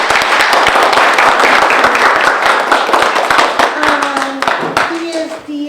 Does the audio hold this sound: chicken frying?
no